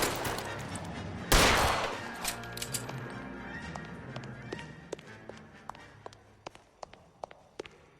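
Gunfire rings out in the crime game L.A. Noire: one loud close blast opens, then a rapid run of sharp, scattered shots cracks out over several seconds, with a low background rumble.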